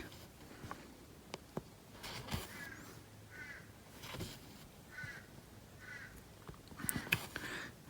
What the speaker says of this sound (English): Noisy crow out in the background, I don't know if you can hear him.